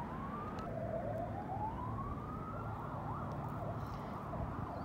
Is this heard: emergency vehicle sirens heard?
yes